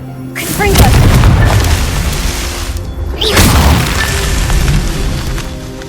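A Confringo fire spell explodes in the Hogwarts Legacy video game, two loud booming blasts roughly three seconds apart, each a sharp attack trailing into a rumbling, crackling decay.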